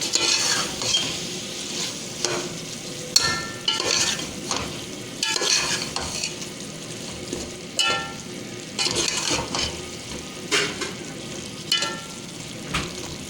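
Fried onions and bitter gourd stirred in a frying pan, with steady sizzling and repeated scraping, clinking utensil strokes against the pan in an irregular rhythm, close and moderately loud.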